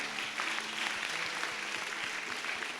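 A church congregation claps for the Lord during a fasting prayer session, producing a moderate, continuous patter of hand claps that lasts a few seconds.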